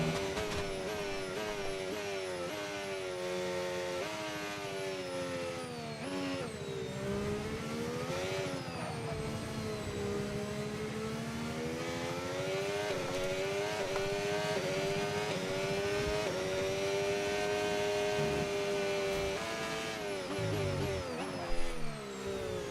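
Formula 1 car engine from a racing game with a realistic engine mod, a high screaming note rising and falling through gear changes and engine braking, loud and continuous throughout.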